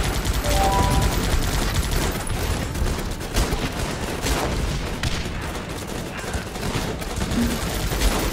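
Dense, rapid gunfire from the video game Guns Up! rattles loud and close throughout, with overlapping bursts forming a constant battlefield barrage and no speech.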